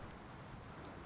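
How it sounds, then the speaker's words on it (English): Steady rain falling on a farm in Farming Simulator 19, a dense even hiss with occasional droplet ticks, continuous and alone. "It's literally been raining all day."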